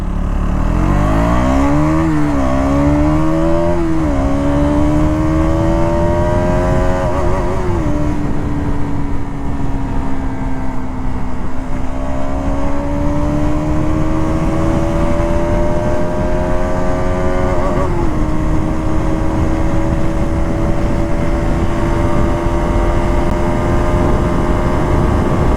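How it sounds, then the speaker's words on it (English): A KTM Duke 200 BS6 motorcycle accelerating hard on a highway, its engine note climbing steeply through several gear changes, then holding a loud, sustained drone with constant wind noise close to the rider. "Yeah, so that's how the Duke 200 pulls."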